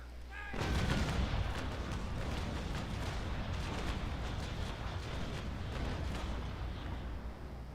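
Port side cannons on a ship in the naval battle game Naval Action fire in a sudden heavy broadside. A deep boom is followed by a long rumbling, crackling roll of shots that stays loud and slowly fades.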